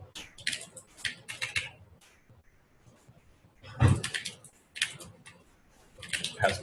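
Bursts of quick, close keystrokes on a computer keyboard as code is typed, clustered in rapid flurries separated by short pauses, with no talking over them.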